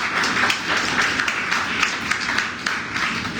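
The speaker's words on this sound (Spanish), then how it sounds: "Den un aplauso a mis padres." A church congregation applauds the pastor's parents during a Sunday morning service, a steady wash of many hands clapping close and sustained throughout, with no break.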